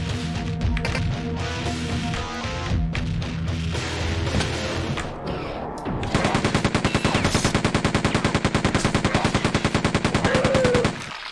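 Machine gun in Quake II firing a long rapid burst of sharp, evenly spaced shots, loud and close, preceded by other clattering game combat noise.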